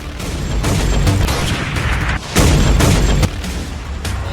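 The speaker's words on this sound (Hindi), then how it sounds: "ये सरेआम फायरिंग की आवाज कहीं और से नहीं बल्कि नगर थाना क्षेत्र के छोटी कल्याणी स्थित अमर सिनेमा रोड में आइकॉन टावर बिल्डिंग से आ रही थी।" Gunfire on a city street at night near a tower building sounds as rapid, echoing bursts of shots over a dense, noisy background, with one especially loud burst partway through.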